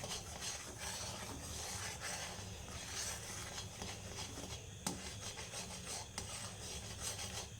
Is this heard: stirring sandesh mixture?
yes